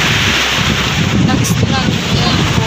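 Steady, loud wind roars across the microphone in open air by the sea during a typhoon, with a low rumble of surf beneath and no clear voices.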